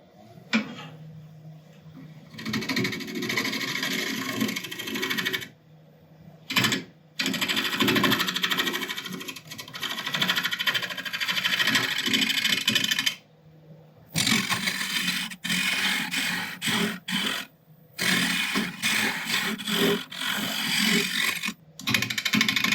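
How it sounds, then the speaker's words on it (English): Loud, continuous abrasive whirring of sanding against spinning holm oak on a lathe, with a few abrupt pauses between long stretches of grinding noise. "I think we're about ready for sanding"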